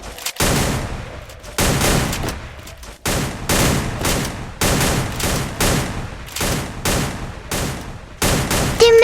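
Rapid bursts of automatic gunfire in a shooter video game, with repeated loud volleys separated by short gaps and no talking.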